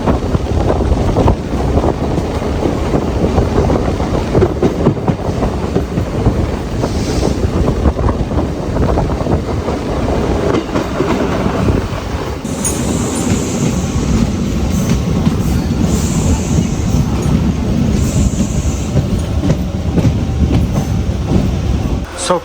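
A MEMU passenger train on the Visakhapatnam to Kakinada run roars along at speed, a loud continuous rumble with heavy wind buffeting throughout and a few brief high squeals later on.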